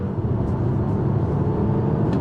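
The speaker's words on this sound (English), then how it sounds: "We'll brake torque it this time, see if we can get a slightly better time." A 2024 Alfa Romeo Tonale Veloce turbo plug-in hybrid launching hard from a brake-torque start, a steady, dense low rumble of engine and road noise heard from inside the cabin, holding at an even level throughout.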